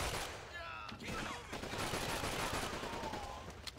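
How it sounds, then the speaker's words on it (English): Rapid bursts of gunfire in Call of Duty 2: Big Red One crackle continuously, dense and overlapping, with faint voices mixed under the shooting. "There's a lot of gunfire right now."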